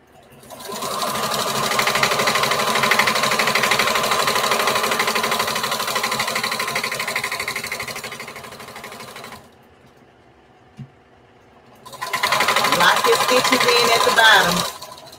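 A sewing machine stitches a straight seam down a bandana patchwork T-shirt dress, running loud and steady for about nine seconds, pausing briefly, then starting up again.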